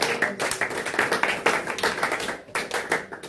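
A church congregation claps steadily in rhythm, dense and close, with voices faintly mixed under the clapping.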